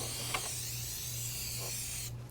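Cooking spray hisses in one steady burst of about two seconds as it is sprayed around the outer edge of a pizza dough ball, close and fairly loud with a faint hum underneath.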